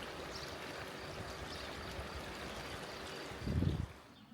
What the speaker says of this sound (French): voilà le ruisseau du Cheylard